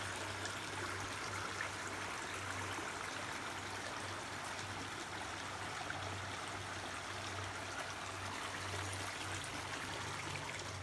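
River water rushes steadily over the rocky shoals at Landsford Canal State Park, a dense, continuous wash of gushing stream noise with no pauses, heard outdoors from nearby.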